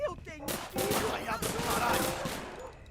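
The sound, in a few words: gunfire in a GTA-style video game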